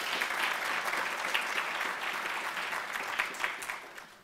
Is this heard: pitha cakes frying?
no